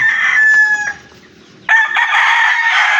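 At a backyard breeder's yard, a rooster crows close by, its long call breaking off into a brief quiet gap before a second loud crow rings out.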